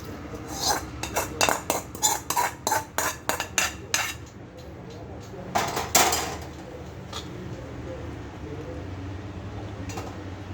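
Potato curry is scooped from a pan into a serving vessel in a home kitchen: a quick rhythmic series of metal spoon scrapes and clinks against the pan, a few more knocks, then quiet room tone.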